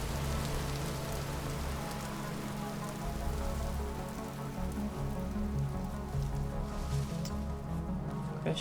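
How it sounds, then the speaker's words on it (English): Rain falls steadily in the Vintage Story video game, a dense, even hiss and patter with a low rumble underneath that continues without a break. "Now we run through the rain with a torch."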